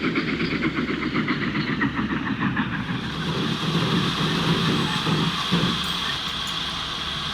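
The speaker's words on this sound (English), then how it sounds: "There's the other train." A train runs in the railway-building game Transport Fever 2, a steady, loud rolling rumble with a faint rhythmic clatter that carries on without a break.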